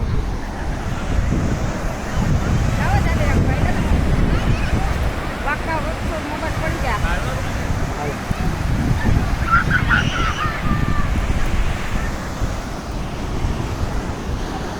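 Sea waves wash steadily onto the shore in a continuous broadband rush, with gusts of wind buffeting the microphone and faint voices and bird calls now and then beneath the surf.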